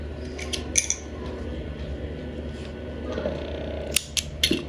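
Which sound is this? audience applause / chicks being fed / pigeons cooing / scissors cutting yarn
scissors cutting yarn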